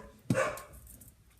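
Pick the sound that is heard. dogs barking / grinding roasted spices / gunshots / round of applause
dogs barking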